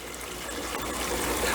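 A new pump sprays a heavy jet of water that curls around and splashes, making a dense, steady hiss close by that swells slightly toward the end.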